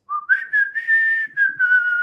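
A person whistles a song tune for a couple's guessing game, a clear close melody of sustained, sliding notes broken by short gaps, alone without talk.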